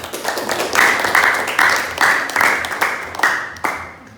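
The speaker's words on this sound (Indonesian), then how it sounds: "Silakan berikan aplaus kepada kelompok 2." A classroom of students applauding a presentation group with loud, rhythmic clapping in unison, the claps landing in steady pulses for about four seconds before fading.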